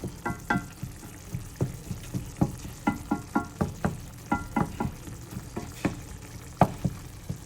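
Ground meat for a meat sauce frying in a pan while a wooden spoon breaks it apart, giving close, crisp sizzling with a steady run of sharp scraping taps and no voices.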